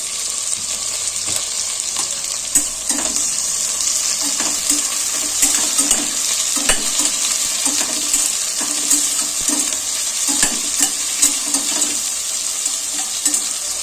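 Tomato and slit green chillies fry and get stirred in a pan for a coriander-mint pulao, a steady close sizzle with faint scraping stirs and light clinks throughout, and no speech.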